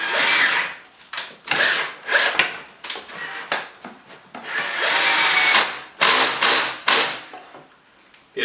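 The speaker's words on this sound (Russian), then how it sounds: "Делаем сразу одно отверстие, чтобы нам дальше не держать руками, сверляя последующее отверстие" A power drill bores holes into furniture board while a drawer is assembled with confirmat screws, coming in repeated close, loud bursts of whirring and grinding separated by short pauses.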